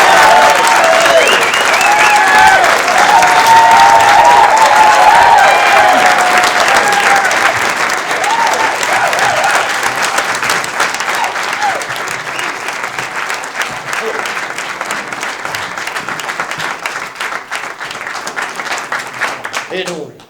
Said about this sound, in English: Please, a nice round of applause for the comedy to Mr.